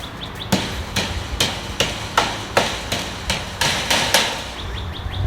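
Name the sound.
hammering down sharp edges of hardware cloth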